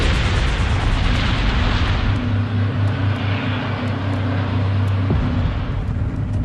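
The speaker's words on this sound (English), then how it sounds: "The air traffic controllers hear the explosions" Two airliners colliding on a foggy runway, heard as a loud, continuous roaring rumble of explosions and burning, heavy and close throughout with a sharper burst near the end.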